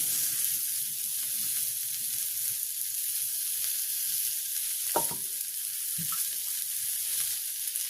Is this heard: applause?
no